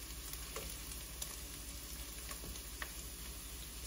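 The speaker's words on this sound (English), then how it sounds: "I got my onions nice and sauteed." Onions sautéing in a pan, giving a steady, fairly quiet sizzle with a few soft clicks and scrapes scattered through it.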